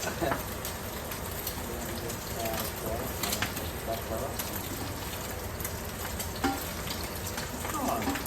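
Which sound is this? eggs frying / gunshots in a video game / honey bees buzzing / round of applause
eggs frying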